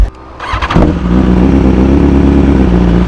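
Motorcycle near the Sap Pradu reservoir in Sikhio, Nakhon Ratchasima: after a few quick sputters its engine swells to a loud, steady drone that holds close by, with no voices over it.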